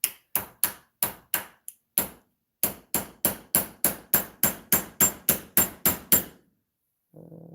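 Repeated tapping of a part with an improvised hammering tool in place of a hammer while fitting a brushless ESC and motor combo: about seventeen sharp, evenly spaced metallic strikes, close and alone, followed by a brief low rustle.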